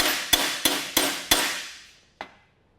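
Four ringing hammer strikes on a metal bumper part resting on an anvil, evenly spaced at first, then a lighter fifth tap after a pause, each one clanging bright and close and decaying slowly.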